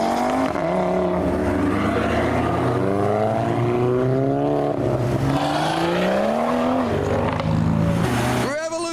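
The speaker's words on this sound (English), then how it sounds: "Revolutions from the Citroën." Citroën engine revving at a car show, with repeated rising and falling pitch sweeps that are loud and close, and voices faintly underneath.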